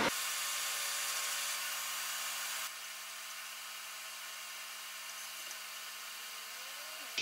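Hot air rework station reflowing flux-covered solder on an Xbox One S console board, a steady airy hiss and whine that drops in level partway through and holds, quiet and alone.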